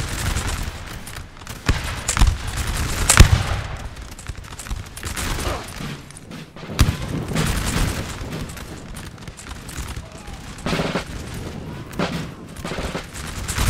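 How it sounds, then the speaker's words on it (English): Rapid musket volleys crackle across a Battle of Valmy (1792) engagement in Napoleon Total War, dense overlapping shots with sharper cracks and booms rolling on steadily, no voices. "They're shooting at the Schomburg goons over there, trying to do some damage to them."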